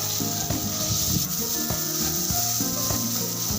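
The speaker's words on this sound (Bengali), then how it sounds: "এখানে সামান্য পরিমাণে একটু সয়াবিন তেল দিয়ে দিলাম এখন তেল দিয়ে এটা ভালোভাবে ভেজে নেব" Sponge gourd frying in soybean oil while being stirred continuously, a loud close sizzle with rhythmic scraping and clacking of a utensil against the pan, no talk.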